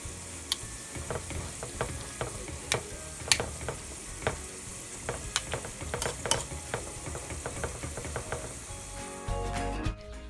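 Ground turkey sizzles and crackles steadily in a hot pan, with scattered sharp ticks and pops throughout, ending in a brief clatter.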